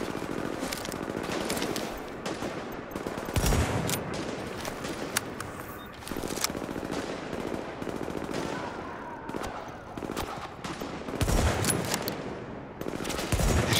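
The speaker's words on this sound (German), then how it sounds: "Die schießen die ganzen Lampen kaputt." Gunfire in Tom Clancy's The Division, with enemies shooting out lamps: sustained rapid bursts of automatic weapons crackle continuously and loudly, punctuated by heavier impacts, under a busy combat din.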